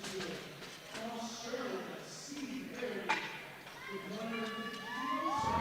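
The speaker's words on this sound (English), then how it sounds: "Hear the Aussies in the crowd now" Australian fans in the crowd at a world classic bench press championship cheer and shout from a distance, rising and falling beneath a commentator's voice.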